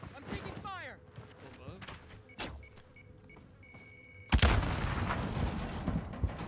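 Gunfire in the Call of Duty Warzone video game: scattered sharp shots, then a sudden heavy burst that leaves a loud, rumbling barrage, with voices chattering over the action.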